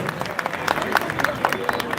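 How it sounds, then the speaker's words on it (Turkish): Steady applause from an audience, a dense patter of many hands clapping that carries on throughout. "Teşekkür ediyorum o güzel alkışlarınız için."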